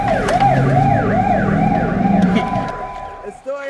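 A wailing ambulance siren sweeps up and down repeatedly, loud and close, with a steady rumble of road traffic beneath, cutting off abruptly near the end.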